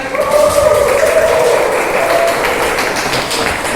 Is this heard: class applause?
yes